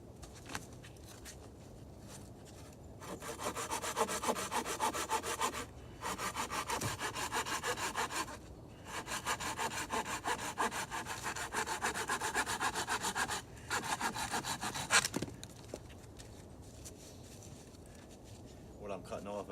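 Hand saw cutting through wood outdoors while building a winter shelter, several bursts of steady rasping strokes separated by short pauses, close and fairly loud.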